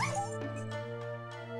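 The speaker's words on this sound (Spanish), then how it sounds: "¡Doggy! ¡Perrito!" A dog in the video game Onimusha 2 gives a few short whimpering yips and barks, with a tonal game-music hum underneath, quiet and brief.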